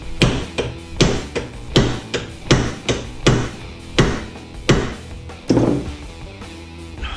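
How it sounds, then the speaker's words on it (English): Hammer blows on metal during a teardown, about a dozen sharp, ringing strikes in an irregular rhythm, loud and close, with no talking. "I need a heavier hammer"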